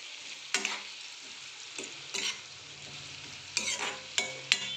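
A spatula scrapes through carrots frying with masala in a pan, in several distinct, fairly close stirring bursts spaced over a steady low sizzle, with no talk.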